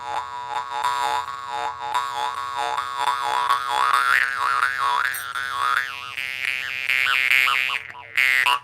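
A jaw harp plays a steady twanging drone with a sweeping, vowel-like overtone melody that rises and wobbles throughout, close and fairly loud, ending in a brief break and a final burst.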